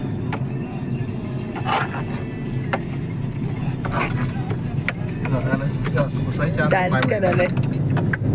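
Heavy road traffic heard from inside a car: a continuous low engine and road rumble runs throughout, with small rattles and clicks and people talking in the cabin.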